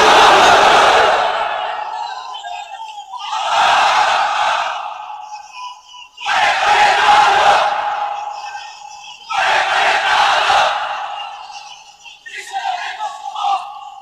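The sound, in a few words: crowd chanting takbir (Allahu Akbar) at a Bangla waz sermon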